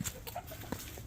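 Bantam hens cluck softly in a pen, a few short, quiet calls over faint background noise.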